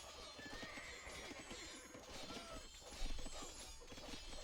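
Horses neigh and whinny with hooves clip-clopping in a medieval real-time strategy game battle, a dense, continuous mix of horse calls and hoofbeats over busy game noise, with a brief crash of impact near the end.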